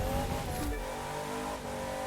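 Car brakes locking up with tires skidding in the racing game The Crew 2, taking a corner. A loud engine roar and tire scrub slide into a steady moderate skid hum over about two seconds, with no talk.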